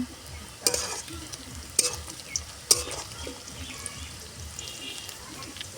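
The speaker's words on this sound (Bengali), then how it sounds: "আমি সামান্য একটু লবণ দিয়ে দিচ্ছি, তাহলে পেঁয়াজ ভাজাটা তাড়াতাড়ি নরম হয়ে যাবে" Onions fry with a little salt in a kadai for chicken kofta curry, giving a steady close sizzle broken by three sharp scrapes of a spoon stirring against the pan.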